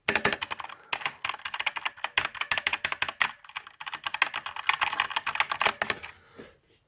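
Fast typing on a Cooler Master CK550 V2 mechanical keyboard with red switches, a dense close clatter of keystrokes with brief pauses, ending in a few last taps.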